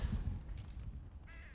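A crow caws in the video game Dragon Age Origins: a short, harsh call that cuts through a steady low game rumble, with no talking.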